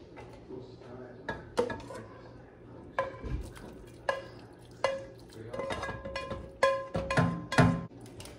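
Spaghetti, shrimp and asparagus being stirred together in a cooking pot, with repeated sharp clinks of a utensil against metal and soft wet shuffling between them, close and fairly loud, with no talk.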